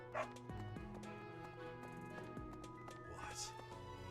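A dog barks in the Fire Emblem video game: a couple of short barks over steady game music with sustained tones.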